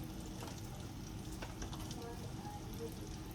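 Croquettes fry in a pan with a steady, soft sizzle and faint crackle, quiet and continuous throughout without any talking.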